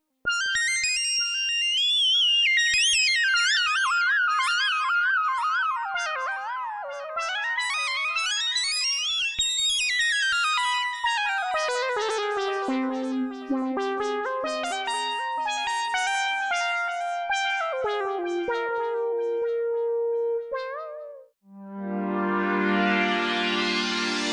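A bright synthesizer lead from the Arturia Mini V3, a Minimoog emulation, plays fast, winding solo melodies with echoing tails, sweeping high then settling lower, ending in a brief buzzy chord.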